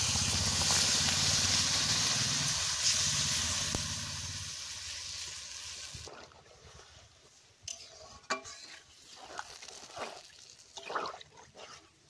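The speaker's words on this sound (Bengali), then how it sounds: "এবার পরিমাণ মতো জল দিয়ে দিচ্ছি।" Water poured into a hot pan of spices for a fish curry with vegetables and nigella seeds gives a loud, steady sizzle and hiss for about five seconds, then fades into quieter bubbling and stirring.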